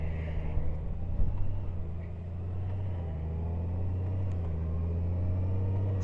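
A 2018 Honda Goldwing motorcycle idles at a stoplight with a smooth, steady, low engine drone. It is close and even, with a slightly rougher swell near the start.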